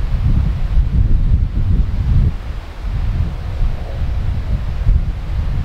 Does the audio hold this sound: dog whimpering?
no